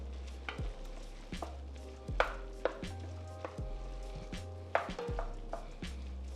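Tomato paste is stirred into a pot of lasagna soup, with repeated sharp clacks and scrapes of a utensil against the pot in an uneven rhythm over a low, steady sizzle, close and fairly quiet.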